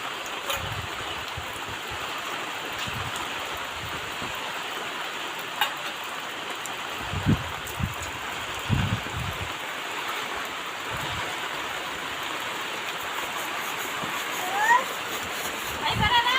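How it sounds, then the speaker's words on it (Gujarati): Steady rainfall hisses throughout, with scattered low thumps and brief bumps, heard at a moderate level with no talking. "એ પણ કેટલો જોરદાર વરસાદ છે આજે"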